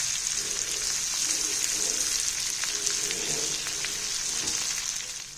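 Dried anchovies (nethili karuvadu) frying in a pan with a steady, dense sizzle that holds evenly for several seconds, with faint scraping of stirring underneath, then eases slightly at the end.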